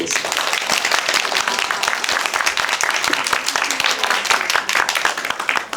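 Enthusiastic audience applause after a film screening and talk with the director and actors of the Korean film 'Madonna', crisp and close with distinct individual claps in a dense, sustained burst lasting several seconds.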